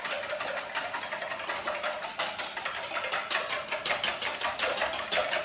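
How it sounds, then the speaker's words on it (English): Cream being whisked back and forth in a bowl: a steady, fast rhythmic clicking and scraping of the whisk against the bowl, close and continuous. "You can see when I'm whisking,"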